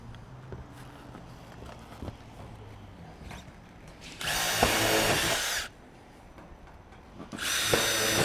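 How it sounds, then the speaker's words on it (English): A power drill drives screws through a metal roll top ridge into a roofing batten, with two loud bursts of whirring, one lasting over a second and another starting near the end, after quieter handling noises. "make sure my screws that go through the roll top ridge go straight into that batten"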